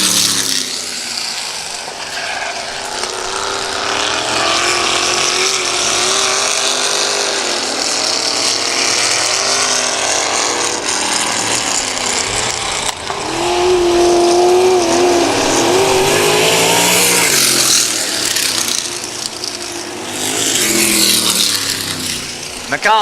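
Antique and vintage race cars circling a track at night, their engines roaring loudly and continuously with rising and falling revs as the cars pass, while a commentator talks over the racing throughout.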